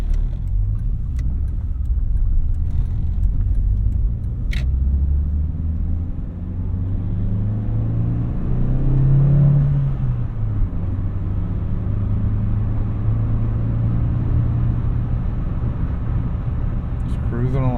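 A 1988 Acura Integra driving along, its engine rumbling steadily close by with a brief rise in revs midway, a continuous low road drone with no one talking.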